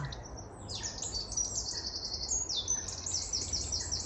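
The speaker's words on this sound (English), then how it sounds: "suddenly the bird song" Several birds chirp and sing outdoors in a steady run of repeated high calls over a faint background hum, with no talk.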